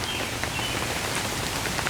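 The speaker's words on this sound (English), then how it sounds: "it's been raining" Heavy rain pouring onto a flooded backyard, a dense, constant patter of drops hitting the ground close by, even and unbroken.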